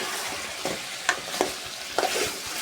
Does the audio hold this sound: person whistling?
no